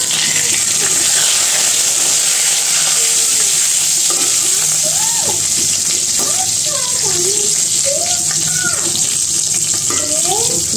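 Eggplant slices frying in a pan on a rainy morning, a continuous loud sizzle of hot oil with scattered pops and scraping sounds throughout.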